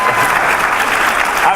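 An audience claps at a talk, a dense, loud and even wash of applause filling the whole moment.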